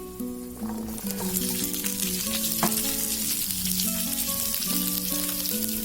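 Green chillies sizzling and frying in hot oil in a pan for onion chutney, a steady close crackle with stirring scrapes, while soft tonal music plays underneath.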